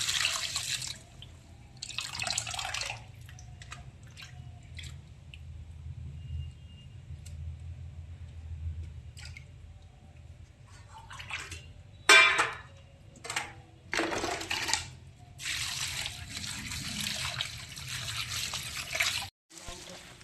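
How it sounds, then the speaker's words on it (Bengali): Bottle gourd peel, potatoes and onions being rinsed under running water, with bursts of tap flow, splashing and dripping that start and stop, close by, interrupted by quiet gaps. "ওটা আমি এখন ধুয়ে নিচ্ছি"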